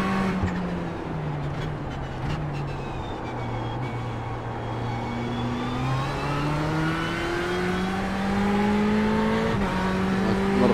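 Race car engine in the iRacing simulator during Daytona 24-hour practice in VR: a steady loud engine note rising and falling through gear changes as the car accelerates and revs, heard alone without talk.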